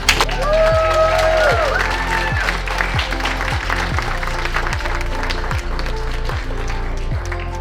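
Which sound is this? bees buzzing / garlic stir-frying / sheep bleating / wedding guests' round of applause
wedding guests' round of applause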